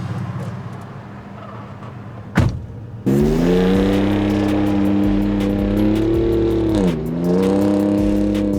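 A vehicle engine hums steadily with road and wind noise, a sharp thump near the start, then a loud, sustained drone as it cruises north at about 60 miles an hour.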